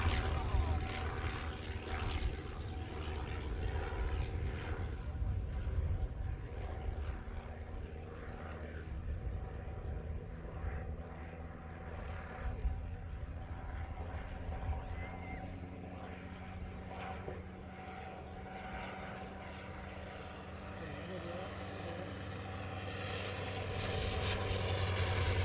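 Propeller aircraft engine drones steadily throughout at an air race day, a continuous mid-level hum with a lingering tonal whine that swells slightly at the end, heard under ambient crowd and commentary noise.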